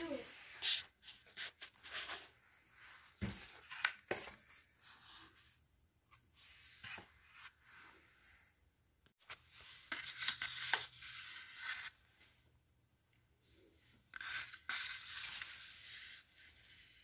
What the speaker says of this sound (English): I'm going to use my X-Acto knife to cut this out.